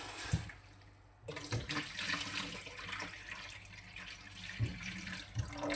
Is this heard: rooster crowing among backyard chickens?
no